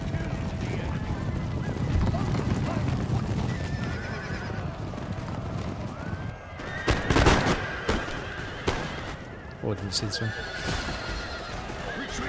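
Cavalry horses neigh and whinny in an Empire Total War battle, with hoofbeats clattering under the calls and sharp musket-like cracks around the middle, while someone talks over the busy, dense battlefield din.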